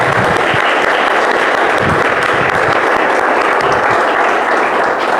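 Church congregation applauding for Jesus during a worship service, a loud, steady wash of many hands clapping that fills the whole stretch without pause.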